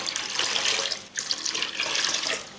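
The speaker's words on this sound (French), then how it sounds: "dedans on va venir verser tout simplement 4 litres d'eau du robinet" Tap water runs steadily into a bucket for about four litres' worth, a continuous broadband gush close by with a brief dip midway, no talking.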